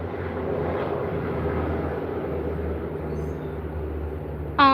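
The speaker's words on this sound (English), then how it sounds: "Is that a helicopter?" Aircraft passing overhead, heard as a steady low engine drone with rumbling tones, continuous and fairly loud throughout, with a brief sharp sound at the very end.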